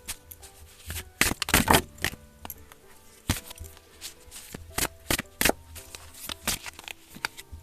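Tarot cards shuffled and drawn by hand: a series of sharp, close riffling bursts and soft slaps of card stock, irregular in rhythm with short pauses between.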